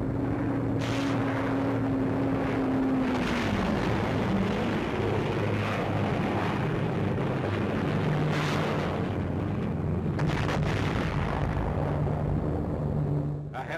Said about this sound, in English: Naha is hit from the air as rocket-firing planes support the attack.